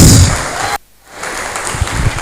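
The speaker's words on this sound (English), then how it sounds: "let's take a moment and put a round of applause for ourselves, for our contributions and everything." An audience at a healthcare technology event claps in a dense round of applause, breaking off abruptly, then resuming more softly with scattered claps.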